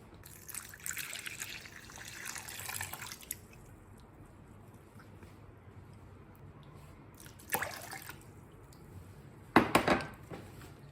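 Lukewarm water poured for pizza dough, heard as a soft trickling splash in a quiet kitchen, one longer pour followed by two brief spills a few seconds apart.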